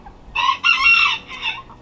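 A small bantam rooster crows in a tiny backyard coop, giving one clear, fairly close call in two strained, high-pitched bursts followed by a softer trailing note, with no talking.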